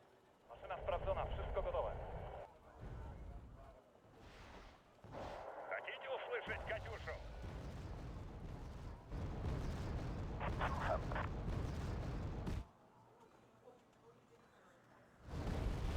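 Gunfire and artillery from the video game Wargame: Red Dragon come as loud bursts and sustained rumbling volleys through most of the stretch, with a voice talking over the action.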